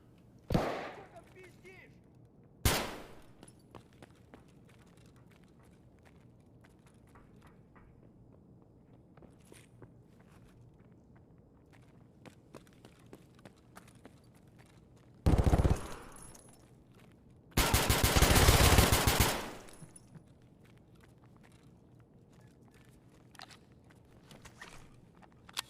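Gunfire in the video game Escape from Tarkov: a couple of sharp single shots early, then a short burst and a longer sustained volley later, loud against a quiet background with faint footsteps.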